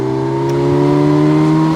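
A Kawasaki Versys 1000 S four-cylinder engine revs with a deep, guttural, cavernous drone, a steady, loud, close hum whose pitch climbs slightly, with no talking.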